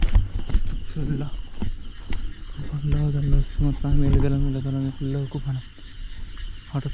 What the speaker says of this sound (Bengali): ব্যাঙগুলো ডাকতেছে।